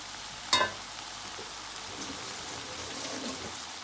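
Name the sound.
garlic and seasoning frying in a pot for chicken stew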